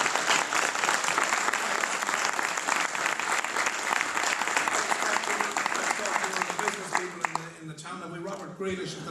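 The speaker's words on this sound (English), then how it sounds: "I'll give that lady a round of applause." Audience applause from a radio business programme fills the space, dense and loud, steady for most of the stretch before thinning out near the end, with a voice faintly under it.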